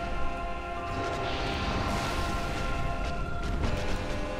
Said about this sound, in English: Body explosion.